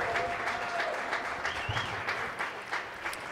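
Applause breaks out for Jake after a match in his hometown, a steady crowd of clapping hands at moderate loudness, with faint voices mixed underneath.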